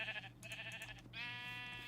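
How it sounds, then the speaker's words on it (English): Sheep in Minecraft bleat twice in quick succession, a wavering nasal call followed by a longer sustained one, close and clear with no talking over them. "Surrounded by all these sheep."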